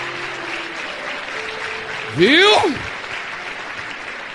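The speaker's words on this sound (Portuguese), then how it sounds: "uma salva de palmas aqui" A church congregation applauds as a broad, steady wash beneath someone speaking Portuguese, with a rising and falling vocal sweep cutting through briefly.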